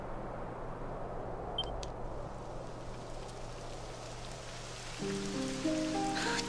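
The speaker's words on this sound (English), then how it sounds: "It would have to go and start raining, wouldn't it?" Rain begins falling in the video game Dragon Quest XI, a steady soft patter and hiss over ambient game sound, with brief electronic tones joining near the end.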